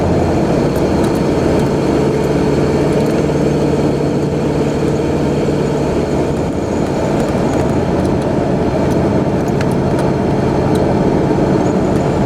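A vehicle runs at highway speed on Highway 92, giving a loud, continuous rumble of engine and road noise with a steady low drone throughout.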